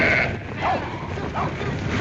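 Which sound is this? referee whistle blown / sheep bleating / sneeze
sheep bleating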